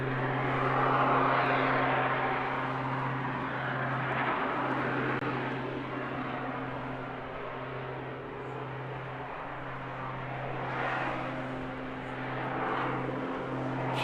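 An aircraft engine drones during an aerobatic display at a seaside airshow, a steady distant hum that swells and fades slightly as the plane maneuvers, with no talk over it.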